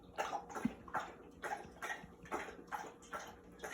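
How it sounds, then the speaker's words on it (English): A pet laps water in a rapid, steady rhythm of soft wet splashes, about two per second, close by and quiet, with no talking over it. "drinking his water"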